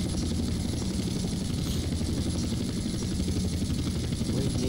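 A helicopter flies in the DayZ video game, played on an MTA server, its rotor beating as a loud, close, continuous chop over a deep engine drone that holds steady throughout.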